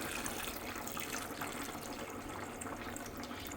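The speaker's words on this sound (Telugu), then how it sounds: "ఇప్పుడైతే మనం మంచినీళ్ళు వేసేసుకుందాం." Water pours steadily into a cooking pot, a continuous splashing rush with no voices, fairly quiet and close.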